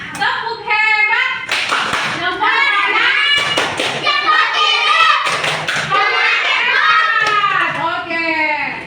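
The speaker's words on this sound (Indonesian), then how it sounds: "sekarang kita tepuk hebat dulu untuk kita semua" A classroom of children performs the 'tepuk hebat' clapping routine, rhythmic bursts of group claps mixed with loud chanting and children's voices in a close, busy room.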